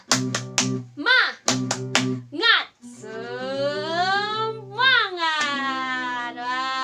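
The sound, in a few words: children's rhythmic clapping cheer, tepuk semangat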